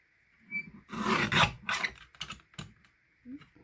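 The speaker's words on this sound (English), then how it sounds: "Easy for me to line that up with this lovely little trimmer." A small paper trimmer slides its blade through cardstock for a handmade card, giving a close rasping cut followed by a few shorter scraping strokes and light clicks, with no talking.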